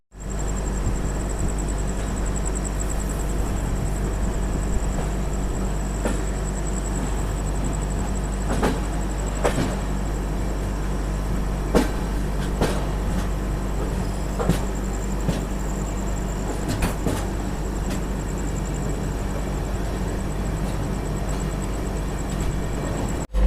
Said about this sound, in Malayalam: ട്രെയിൻ ഇപ്പോൾ പതിയെ പോകുന്നത്.